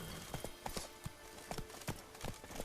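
Roach, Geralt's horse in The Witcher 3, walks slowly with a steady clip-clop of hooves, soft irregular hoof strikes spaced about every quarter second over a quiet game background.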